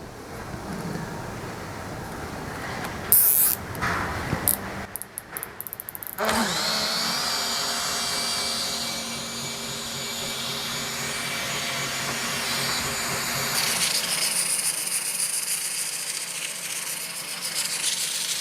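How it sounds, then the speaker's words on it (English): Wooden steering wheel for a 1939 Hudson spun by a power tool while sandpaper is held against its rotating rim, a steady loud whirring drone with a few clattering bursts early on. "I can sand it by just holding the piece of sandpaper on the rim of the steering wheel."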